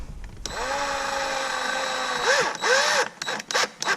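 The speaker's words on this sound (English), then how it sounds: "just marked where I want to put the hole, and just drilling it" A power drill whines steadily for about two seconds, then rises and dips in pitch as it bites through a thin aluminum plate, ending in short bursts.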